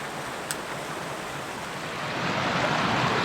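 A mountain stream in the Eastern Sierra runs mellow rather than raging, giving a steady, broad rush of water that swells slightly louder toward the end.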